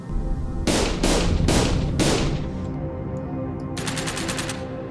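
Gunfire from first-person shooter video game prototypes: four heavy bursts in quick succession fill the first half, then a faster rattle of rapid shots follows near the end, all close and loud.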